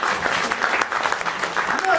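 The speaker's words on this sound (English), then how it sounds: "Round of applause to the man over there." A round of applause from a lecture audience, brief scattered clapping mixed with some voices in the room.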